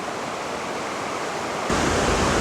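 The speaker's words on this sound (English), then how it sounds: "This is an area just below the falls." Steady roaring rush of a waterfall beside a creek along the Kancamagus Scenic Byway in New Hampshire, loud and close, a broad constant wash of water that swells slightly louder partway through.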